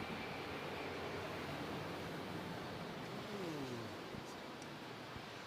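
A fixed-wing airplane passes overhead at a conference gathering, a steady broad engine roar that fills the whole stretch with a faint descending whine, loud and continuous with no talk.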